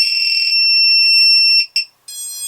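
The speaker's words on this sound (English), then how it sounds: "we should get this triple beep, and that will mean it's disarmed." A ViFly Finder drone finder emits a loud, shrill electronic tone held steadily, then three short sharp beeps in quick succession at close range, with no other sound.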